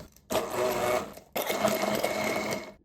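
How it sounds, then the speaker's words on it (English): An immersion blender mixing salted caramel for vegan, gluten-free spiced caramel apple cupcakes whirs steadily in two loud bursts with a brief pause between them. "now we grab our immersion blender and we go to town"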